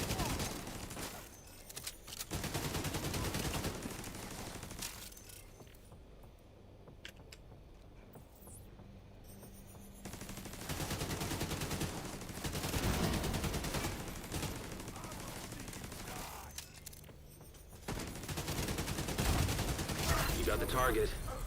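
Video-game turret gunfire comes in dense, loud bursts separated by quieter gaps, with a rapid machine-gun rattle and a voice talking over parts of it.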